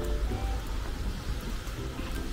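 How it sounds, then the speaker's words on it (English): Steady rain pours down across an outdoor golf course, a dense, even hiss with low rumbling underneath, continuous and fairly loud throughout with no voices. "It's raining."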